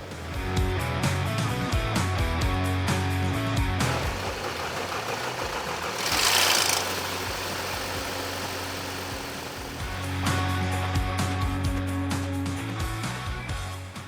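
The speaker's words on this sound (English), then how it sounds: "So the engine does run freely as we just saw" An Audi A6 engine cranks with rapid clattering bursts, then catches and runs at a steady idle. A brief surge of noise comes midway before the rough, rhythmic idle picks up again, close and fairly loud with no talking.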